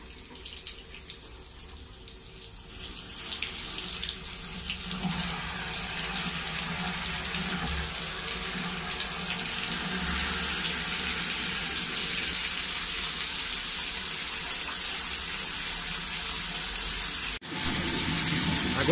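Water from the street supply rushes through a valve and hose after the valve is opened at a house, a steady loud gushing roar that swells slightly and continues for the whole stretch, with no talk.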